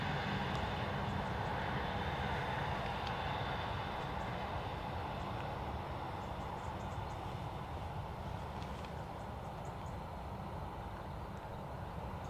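An ATR turboprop arrives at Dublin Airport from Newcastle, heard as a faint, distant and continuous engine drone with a low rumble that stays level the whole time.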